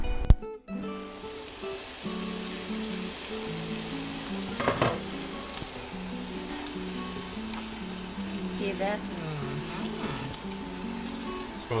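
Prawns and squash simmer in coconut milk over low heat, giving a steady close bubbling sizzle with occasional stirring clatter, continuous and fairly loud throughout with no talking.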